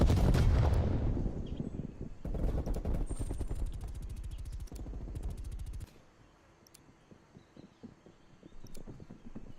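A frag grenade in a shooter game bursts with a loud close blast, followed by rapid gunfire that cuts off, then sparse distant shots.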